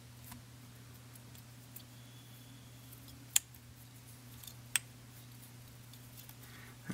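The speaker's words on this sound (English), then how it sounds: "And I'll cut off the copper wire." Copper wire gets snipped during fly tying, with a couple of sharp, quiet clicks over a low steady background hum.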